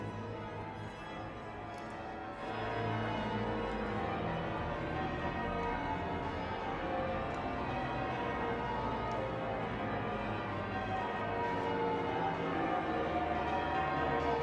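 The bells of St. Paul's Cathedral peal out during a Diamond Jubilee thanksgiving service, a wash of overlapping ringing tones over a loud, steady outdoor crowd murmur.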